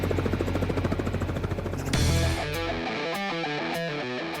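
Helicopter rotor thumping steadily up close, carrying a sling load over the Alaskan bush, its pulsing beat shifting partway through into a chopped, warbling drone.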